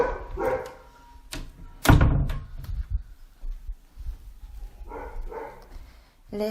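A house dog barks in uneven bursts, one loud close bark standing out amid softer yips and whimpers, with a voice briefly audible.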